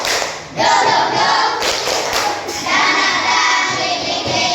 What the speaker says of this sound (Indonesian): Yuk kita tepuk semangat sama-sama